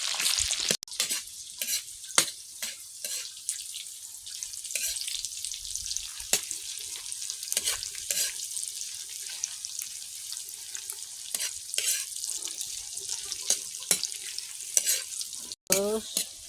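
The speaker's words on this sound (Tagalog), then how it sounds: "Igigisan niya na yung sibuyas sa mantika at mamaya pa yung kamatis." Onion sautés in cooking oil with a bright, hissing sizzle and frequent sharp spatula taps and scrapes from close up, with no speech.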